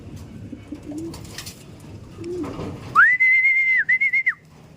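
Faint rustling and handling noise, then a clear, loud whistled call rises and holds, broken by a short gap before a second, shorter whistle.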